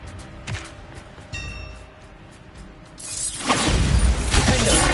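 Quiet mechanical clicks and ratcheting give way to a loud Bombarda blasting spell impact in Hogwarts Legacy, a sudden roaring burst with a shattering edge that keeps rumbling to the end.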